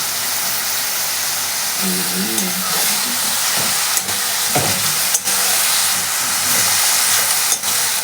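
Radish greens with green chilies and a pinch of turmeric frying in a pan, a loud continuous hiss-like sizzle with occasional sharp pops and brief clinks, close up.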